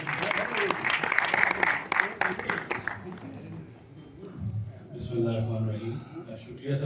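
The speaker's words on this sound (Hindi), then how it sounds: "आपकी भरपूर तालियों में हैदर राज मुल्तानी" A hall audience at a film actor's death-anniversary event claps loudly for a few seconds. The applause fades and a voice carries on speaking.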